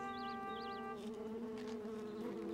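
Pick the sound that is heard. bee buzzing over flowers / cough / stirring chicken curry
bee buzzing over flowers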